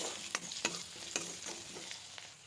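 Spices sizzle softly in a pan for a sesame and snakehead fish curry while a utensil scrapes and stirs in a steady, repeating rhythm, with no voices.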